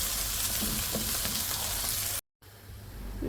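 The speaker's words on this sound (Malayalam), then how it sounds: "ഇതിപ്പോൾ നല്ലതുപോലെ ഫ്രൈ ആയി തുടങ്ങിയിട്ടുണ്ട്" Beef frying in a pan for a homestyle beef roast. The steady sizzle cuts out for an instant, then returns softer and slowly builds again.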